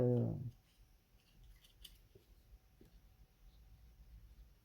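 Scissors snip once through thin scrapbooking paper, a short close cut at the very start, followed by near-silence with only faint handling sounds.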